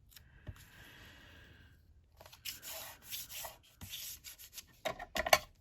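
A burnishing tool rubs washi tape down onto paper, making soft, close scraping strokes in short bursts that grow busier toward the end, with no talking.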